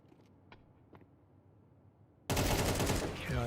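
M4 rifle fire in Counter-Strike, a sudden loud dense burst of rapid shots cutting in after quiet clicks and faint background sounds, continuing to the end.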